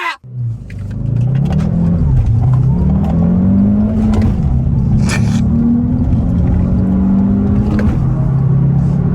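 Car pulling away from a standstill during a 0-100 acceleration run, a loud close engine drone rising and falling in pitch as it revs through the gears.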